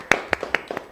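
An audience at a children's talent stage show claps in a short burst of sharp, separate hand claps, about six strikes spaced a little unevenly, close and clear.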